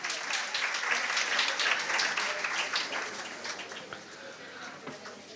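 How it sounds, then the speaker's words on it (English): An audience at a career seminar for engineering and BCA/MCA students applauds steadily for several seconds after a speaker is called to the stage, the clapping dense and moderately loud before tapering slightly. "Let's have a round of applause for him."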